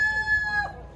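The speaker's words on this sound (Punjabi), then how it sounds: "ਮੁਰਗਾ ਵੇਖੋ ਅਜ਼ਾਨ ਦਿੰਦਾ ਪਿਆ ਦੀਵਾਰ ਦੇ ਉੱਤੇ ਚੜ ਕੇ" A rooster perched on a wall crows once, close and clear, its drawn-out call standing alone before fading at the end.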